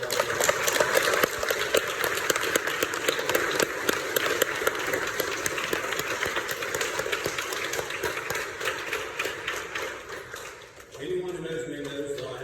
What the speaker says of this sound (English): Let's give all these past graduates a round of applause.